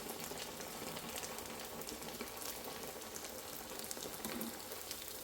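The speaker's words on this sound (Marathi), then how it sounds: "मंद आचेवरती ह्या दोन्ही कचोऱ्या तुम्ही तळून घ्या" Two kachoris fry in hot oil over a low flame, giving a steady, soft bubbling sizzle that holds evenly throughout with no talking.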